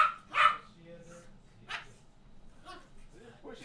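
Dogs barking in short bursts while playing roughly, loud and close, with people talking between the barks.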